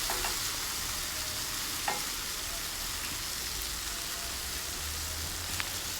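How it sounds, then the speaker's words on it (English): Fried prawns are stirred into a honey garlic sauce over a high flame, giving a loud, even sizzle like steady rain with a few scattered utensil clicks, close up and without talk. "in high flame cook for a little while, and then I'm going to add these fried prawns in this sauce"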